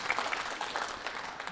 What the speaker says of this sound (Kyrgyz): Кол чаап тосоңуздар.